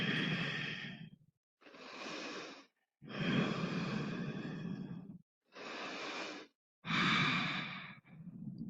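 Slow, deep breathing during a held yoga pose in a modified Bikram practice: five long, steady breath sounds, each lasting about one to two seconds with short pauses between, close and clear, with no talking.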